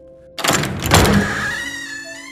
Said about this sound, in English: A door creaking open.